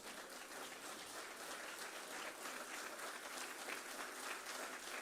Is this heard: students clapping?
yes